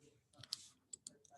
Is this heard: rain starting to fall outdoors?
no